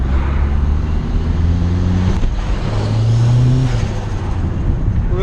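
A Ford Escort Cosworth engine with a K&N air filter revs loudly up close, rising and falling in pitch, with a brief sharp flutter from the turbo between revs.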